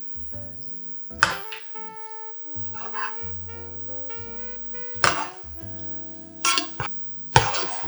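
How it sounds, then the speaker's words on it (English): Pasta being stirred through spinach and walnut pesto in a pan, with a few short scraping, wet bursts of the spoon rising over steady background music. "Give it a stir."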